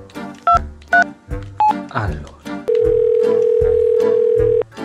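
Telephone keypad tones beep in a quick irregular series, each short and loud, followed by a steady continuous dial tone lasting about two seconds, with someone talking close by over the dialing.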